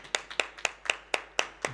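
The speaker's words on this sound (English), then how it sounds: "A round of applause to him, ladies and gentlemen." A small audience claps at a university science week event, heard as seven or eight separate, evenly spaced claps that sound sparse and fairly quiet.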